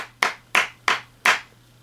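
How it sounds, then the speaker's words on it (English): Four sharp, close hand claps ring out alone at an even, deliberate pace, each a crisp slap with a brief decay. "I'm giving this 5 claps"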